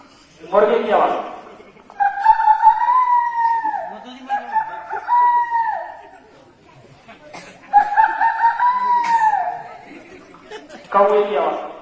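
A boy imitates a rooster crowing, giving several long, loud cock-a-doodle-doo calls one after another, each drawn out and wavering, close to the microphone.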